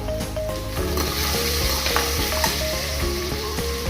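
Ginger and garlic fry with onions in a pan as they are stirred, producing a continuous close sizzle with rhythmic scraping, while music plays underneath.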